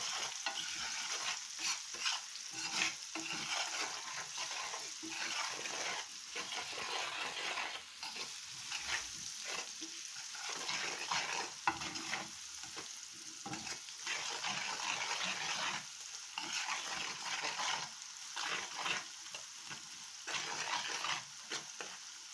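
Curry powder gets stirred into food frying in a pot for Jamaican curry chicken: a continuous close sizzle with rhythmic scraping and stirring strokes throughout, no talking.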